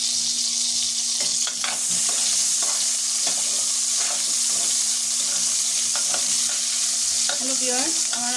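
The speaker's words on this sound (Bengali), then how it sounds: "ভেজে নিলাম আলুগুলো, মচমচে করে ভেজে নিলাম।" Potato pieces fry crisp in hot oil, a loud continuous sizzle with occasional scraping stirs running through it, close by and without speech.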